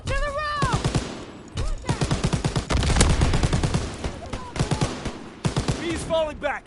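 Rapid bursts of automatic and single-shot gunfire from a World War II shooter game, loud and close, firing in dense volleys with brief pauses while voices shout orders over the shooting.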